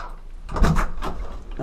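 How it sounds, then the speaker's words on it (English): The back door of a bunkhouse is pushed open, a short close thud and rattle followed by a brief creak. "Okay, you go out the back door."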